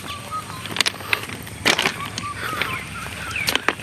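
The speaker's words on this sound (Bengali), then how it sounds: "পাখির কিচিরমিচির শব্দ" Birds chirp in a tea garden beside a railway line in hilly country, with scattered short twitters over an outdoor hiss and a few crunching footsteps.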